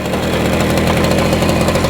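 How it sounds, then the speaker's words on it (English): A Garelli SuperSport moped engine idles loud and close, a steady rapid putter with no pauses. "I've got the idle turned down a bit, so we're gonna adjust it up"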